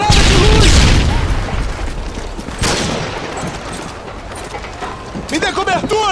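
In a first-person shooter, a flash grenade goes off with a loud boom amid sustained gunfire, while in-game character voices call out over the action.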